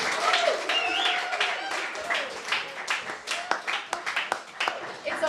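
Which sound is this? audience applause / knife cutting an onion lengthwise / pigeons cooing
audience applause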